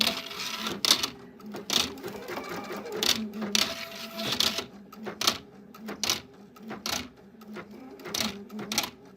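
An embroidery machine fitted with a ribbon embroidery attachment stitches in repeated mechanical bursts and clacks, close and fairly quiet, with brief pauses between runs.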